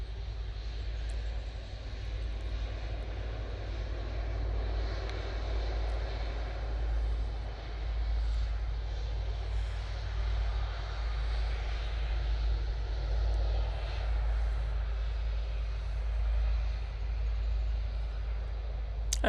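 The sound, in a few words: Airbus A320 airliner landing at Manchester Airport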